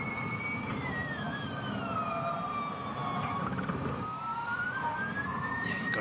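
The high electric whine of a Formula E race car at the 2022 Jakarta race rises and falls in pitch as it speeds, brakes and accelerates, steady and fairly close.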